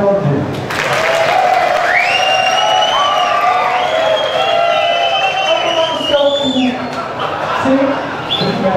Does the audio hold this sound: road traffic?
no